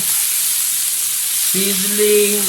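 A lamb shoulder chop sizzles steadily in a hot pan, a loud, close, continuous crackling hiss; a brief tonal hum joins in partway through.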